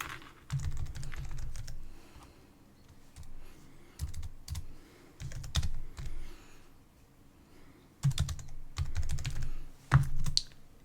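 Close-up bursts of typing on a computer keyboard, with quick clusters of key clicks separated by short pauses and one sharper click near the end, with no talk.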